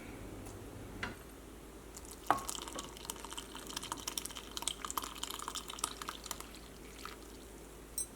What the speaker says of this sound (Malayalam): ഈ പാലങ്ങോട്ട് ചേർക്കാം.